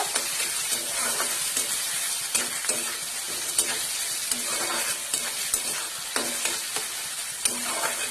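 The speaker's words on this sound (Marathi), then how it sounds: "आता त्याच्यामध्ये मी गाजर आणि टोमॅटो घालते. ते पण 2 मिनिटं फ्राय करून घ्यायचं व्यवस्थित." Carrots and tomatoes frying in hot oil for vegetable upma fill the space with a dense, crackling sizzle, marked by repeated sharp scrapes and clicks as a spoon stirs the pan, close and steady.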